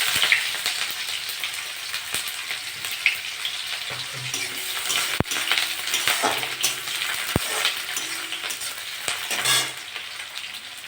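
Onions fry in a pan with five-spice seeds and dried red chillies, crackling and sputtering steadily. Clinks and scrapes from a stirring spoon break in now and then. No voices are heard.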